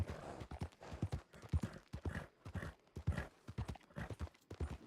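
Steady clip-clop of horse hooves at a trotting rhythm in a western roleplay video game, close and fairly loud, with no talking over it.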